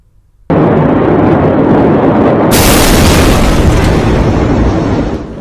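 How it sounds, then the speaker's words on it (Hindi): The Beirut explosion bursts out of near silence into a deafening, sustained roar that swells further before slowly fading. "लेबनान की राजधानी बेरूत में जोरदार धमाका हुआ।"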